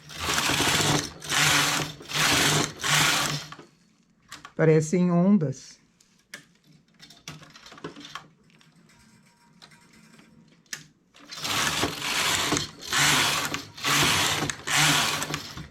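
A knitting machine runs a test stitch in repeated rapid mechanical bursts of carriage clatter, with a pause in the middle where a voice speaks briefly.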